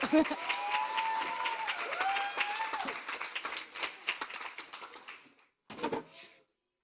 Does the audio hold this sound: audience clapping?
yes